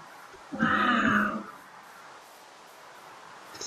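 A single sheep in a video game bleats once, briefly and clearly, over quiet background ambience.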